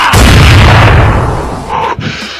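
Three loud gunshots over roughly a second and a half, booming and echoing close up, the final report fading into a short tail.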